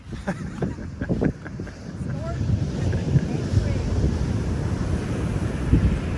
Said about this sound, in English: just even wet sand is too much for Amanda with big breakers right behind us